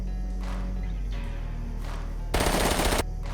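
A single loud, close burst of automatic gunfire in DayZ on the winter Chernarus map, lasting under a second, after a quiet stretch of low ambient game hum and faint thumps.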